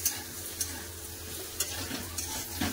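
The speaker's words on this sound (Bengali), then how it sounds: "বেগুনটা আর একটু ভেজে নেবো" Eggplant frying in a pan with onions, a steady low sizzle broken by a few soft stirring scrapes and clinks, close and fairly quiet, with no voices.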